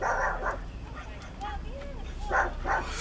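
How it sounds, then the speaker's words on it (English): Several dogs bark and yip at a distance, in short scattered bursts over steady outdoor background noise. "Dogs across the street are barking."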